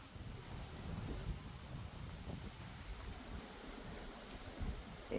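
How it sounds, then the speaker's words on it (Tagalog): Strong wind blowing outdoors at a house after Typhoon Uwan, a low rumbling gusty roar buffeting the microphone in surges, fairly quiet overall and with no talking. "Malakas talaga ang hangin dito."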